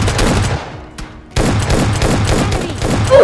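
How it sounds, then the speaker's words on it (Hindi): Rapid automatic gunfire in the video game PUBG Lite, dense bursts of loud shots rattling in quick succession, broken by a brief pause before the firing resumes. "गाड़ी पे ही गोली चल जाती है"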